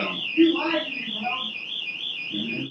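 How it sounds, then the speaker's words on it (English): A fire alarm warbles continuously in a high, wavering electronic tone while a person talks underneath it. "there was a fire alarm, no fire"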